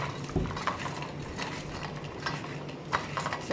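Food tossed with salt and oil in a bowl before air frying, a run of close utensil clinks and scraping stirs with irregular rhythm.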